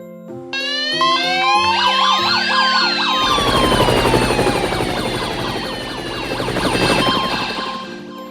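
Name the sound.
emergency vehicle sirens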